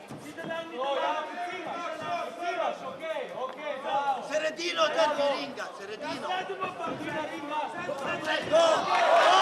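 A crowd roars and cheers for a fighter during a title bout at a combat-sport event, loud and surging, rising toward the end, with a commentator talking over the noise.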